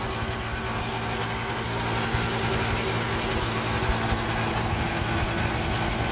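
A steady, rumbling engine idles continuously with a low, even drone and no noticeable changes in rhythm.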